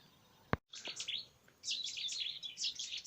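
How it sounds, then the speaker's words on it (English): A whitethroat and a lesser whitethroat sing from a hedge in Essex, with bursts of scratchy, high chirping phrases close by after a single sharp knock, no voices. "we've got 3 birds singing in this piece of hedge here"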